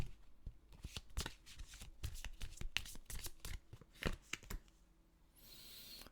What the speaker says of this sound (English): I'm going to pull you an Angel of Light Oracle